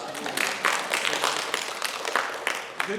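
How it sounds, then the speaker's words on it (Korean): Church congregation claps to welcome a missionary coming forward, a moderate scattered round of applause at middle distance lasting a few seconds. "박수 치셔도 됩니다"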